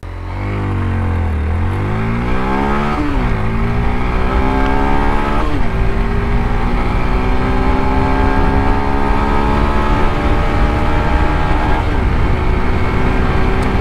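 A Yamaha FZS V4 motorcycle accelerating hard from a standstill in a 0 to 100 test: a loud, close engine whose pitch climbs steadily through several gear changes, then holds a sustained high drone with wind noise.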